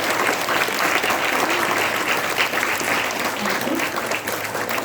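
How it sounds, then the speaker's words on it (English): A school investiture ceremony audience gives a big round of applause, dense sustained clapping from a crowd, loud and even across the whole stretch. "Let's, of course, have a big round of applause for all of us on this stage."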